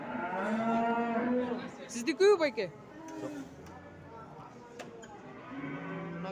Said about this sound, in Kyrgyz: Мындай музолуу уйлар бар экен.